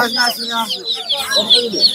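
Broiler chicken chicks crowded together at a rural market, giving dense, continuous high-pitched peeping and chirping that overlaps throughout, fairly close and loud.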